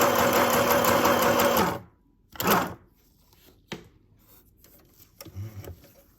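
A portable sewing machine running a wide zigzag stitch, a dense steady mechanical whir for almost two seconds that then stops, followed by a few faint handling clicks and knocks.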